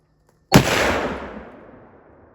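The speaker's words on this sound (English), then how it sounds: "he needs to empty his gun. Maybe if it goes off." A single loud muzzleloader rifle shot fired outdoors to empty the gun, a sharp blast followed by a long rolling echo that fades over about two seconds.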